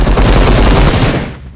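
Loud, close automatic gunfire from the PUBG Mobile video game rattles in a dense rapid burst, then cuts off and fades away.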